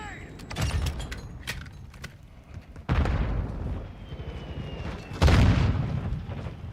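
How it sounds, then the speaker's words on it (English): Grenade blasts in Call of Duty: Modern Warfare II land as two heavy, booming explosions a couple of seconds apart, each with a sharp onset and rumbling tail, amid scattered gunfire and game noise. "Throwing grenade!"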